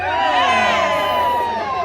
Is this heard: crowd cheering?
yes